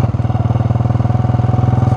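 A Pishtaz 125cc motorcycle engine runs in second gear while riding, a loud, close, rapid even thumping pulse with steady mechanical clatter and no talking.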